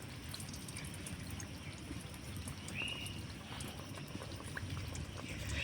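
Khaja pastries fry in warm white oil in a wok, a low, continuous bubbling sizzle with small pops and light trickling that thickens slightly toward the end.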